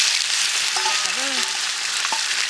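Chicken breast pieces stir-fried in a hot wok over a high flame, with a loud continuous sizzle and soft scraping of the spatula up close, and no talking.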